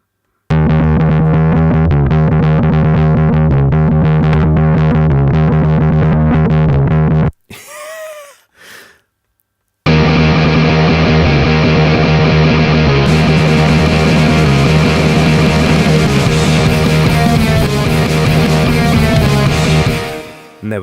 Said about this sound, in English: I've just used the overdrive here rather than a bass amp.